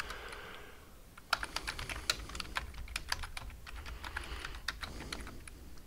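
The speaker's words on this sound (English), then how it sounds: "I'm going to go ahead and type it anyways" Someone types steadily on a computer keyboard, producing a close, quiet run of irregular key clicks over a soft room hum, with no speech.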